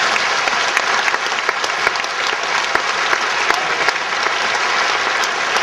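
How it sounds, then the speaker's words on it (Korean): Steady, dense applause fills a church worship service, loud and sustained throughout as the congregation claps together, with no speech over it. "우리 하나님께 다시 한번 영광의 박수."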